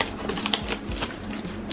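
Sticky tape peels off the lid of a Vivan FM100 micro USB cable box, a close, quick run of crackling rips and clicky snaps lasting under two seconds.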